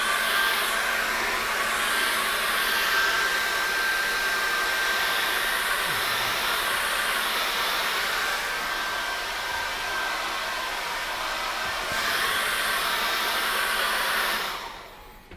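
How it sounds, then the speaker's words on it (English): A hair dryer blows steadily over an acrylic painting, a constant loud rushing hiss with a faint whine that shifts slightly as it moves, running for about fourteen seconds before cutting off. "what we're going to do is dry that off really well"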